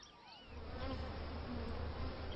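Honey bees swarm around a beekeeper's hive, making a close, dense, steady buzz that swells slightly after the first half second.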